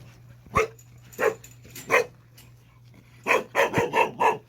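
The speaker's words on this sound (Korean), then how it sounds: "짖지 마" Jindo dogs at a kennel barking in a series of sharp, loud barks, a few spaced single barks followed by a quick run of several, with no talking.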